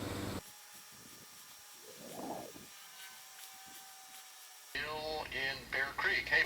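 A restored Emerson 641B vacuum tube radio plays with slight distortion. The broadcast cuts in loudly after a near-silent stretch with only faint handling noise.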